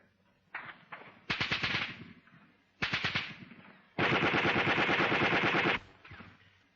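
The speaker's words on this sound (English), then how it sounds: "there's an enemy machine gun by those 2 trees over there. The fire is heavy" Enemy machine gun fire from a wartime platoon training film, loud rapid bursts: several short volleys followed by one long sustained stream of rattling shots, with no voices.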